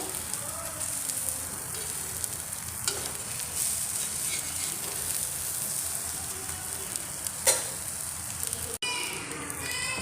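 Egg kalakki sizzles steadily in a pan, a soft continuous frying hiss with occasional faint clicks of stirring, fairly quiet and close with no talk.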